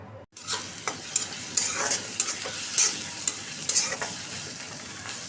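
Onions frying in a pan on the stove, a steady sizzle broken by repeated scraping stirs of a utensil, close and moderately loud after a brief silent start.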